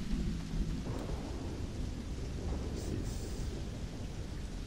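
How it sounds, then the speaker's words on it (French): Rolling thunder from the weather effects of the Starfield video game, a steady low rumble that holds loud through the whole stretch with soft rain-like hiss above it and no voices. "regardez là le tonnerre là, qui est trop bien fait, les effets météorologiques"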